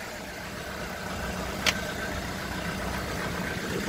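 A 1972 Mercedes-Benz 200D W115 diesel idles with a steady, even engine drone at moderate loudness, broken by one short sharp click partway through.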